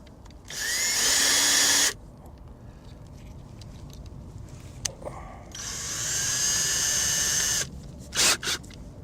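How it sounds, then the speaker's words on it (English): A power drill boring through metal for a homemade spice rack: two long, loud whining runs, each a couple of seconds, separated by quiet handling clicks, then two short final bursts. "just got to drill this and then bend the other one"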